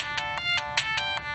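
A mobile phone ringtone plays loudly and alone, a bright electronic melody of repeating short bursts in a steady pulsing rhythm.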